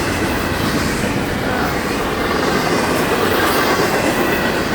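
A long FEC freight train rolls past, a loud, dense, continuous rumble and roar of wheels and cars with faint clatter, steady from start to end and close by.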